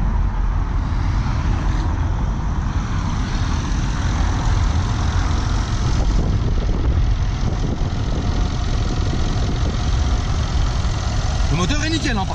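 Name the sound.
powerful 600-700 hp car engine idling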